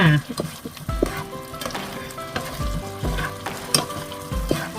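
Mixed vegetables with bouncy pork balls and a splash of water stir-fried in a pan, with loud bursts of sizzling and repeated clanking scrapes of a spatula against metal, close and busy throughout.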